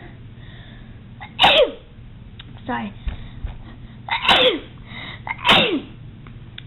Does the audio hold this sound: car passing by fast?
no